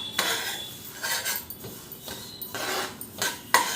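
Sesame seeds, a cup of them, pour into a hot pan and get roasted, giving a close, continuous rattling and scraping of a spoon against metal in repeated strokes, with a sharp clink toward the end.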